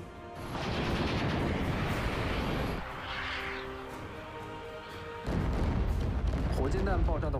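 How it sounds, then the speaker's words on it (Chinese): Salvo of rockets fired at night onto a target range, a deep sustained roar of launches and rumbling blasts rolling on and off, with someone speaking over it. "现在我们听到是这个火箭弹发射的这个轰鸣声"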